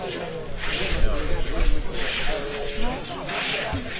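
Whetstone strokes on a scythe blade at a mowing competition in Pohorela, heard as three loud rasping, swishing passes of roughly a second each, close by, with crowd voices murmuring underneath.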